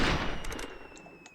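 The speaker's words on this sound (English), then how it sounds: "this is a flare gun that obviously shoots a firework out of it" A flare gun in a Roblox game fires a firework: one loud, sharp blast opens, then fades into a brief scatter of crackling pops.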